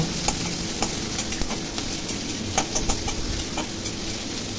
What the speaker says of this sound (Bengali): পেঁয়াজ ভেজে নিচ্ছি।